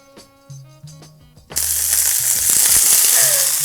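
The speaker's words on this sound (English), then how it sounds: "along with the corn, I'm going to be grilling the jalapeno as well" Corn and jalapeno hit an oiled pan with a sudden loud, steady sizzle that runs to the end, after a few soft kitchen clatters.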